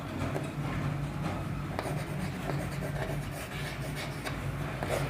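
Pen scratching steadily on paper while a statistics problem for a class 10 exercise is written out, a soft continuous rasp with small strokes, close and alone over a low steady hum.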